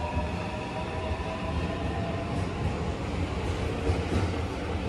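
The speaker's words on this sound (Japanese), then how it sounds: "今ちょうど中本行きの列車が発車していくんですよ。この赤い車両が大阪メトロ御堂筋線の車両です。" A red Osaka Metro Midosuji Line 30000 series train pulls out of a station, its steady rolling rumble and faint wheel whine filling the whole few seconds at close range.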